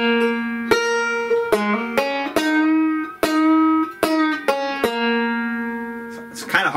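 A banjo plays a lick with string bends at a slow pace: sharp plucked attacks with bright ringing tones that slide up in pitch, close and clear with no voices.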